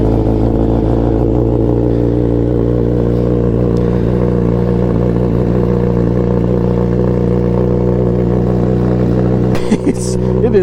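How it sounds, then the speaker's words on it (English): A Kawasaki ZX10R motorcycle with a full M4 exhaust idles after a cold start, its engine burbling loud and steady up close with a rhythmic pulse and a brief throttle blip near the end. "I'm going to give you a cold start because this is a full M4 exhaust system"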